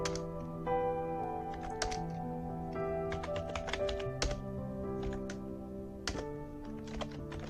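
Rapid keystrokes rattle on a computer keyboard as commands are entered on a Linux Ubuntu server, with irregular bursts of close clicking over a quiet background hum.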